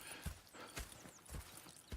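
Horse hooves clip-clopping in Red Dead Redemption 2, a few soft, evenly spaced thuds from nearby horses, faint and alone.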